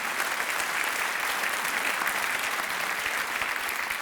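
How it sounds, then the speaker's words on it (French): A studio audience applauds at a Belgian television comedy show, a dense, steady burst of clapping that lasts throughout with no voices over it. "on peut l'applaudir aussi"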